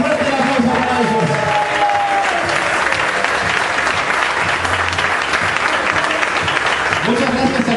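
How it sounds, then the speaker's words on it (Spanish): Loud, sustained applause from an audience at a restaurant competition event in Punta del Este, steady clapping filling the room throughout with crowd murmur and a voice faintly audible over it. "¡Fuerte la aplauso para ellos!"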